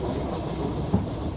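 A train travelling to and from a war zone rolls steadily on its rails, with a continuous rumbling clatter of wheels heard from inside a carriage and a brief louder knock partway through.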